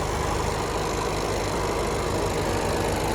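A SEAT car engine idles smoothly during a used-car inspection, a steady even hum that stays constant and close without any talking.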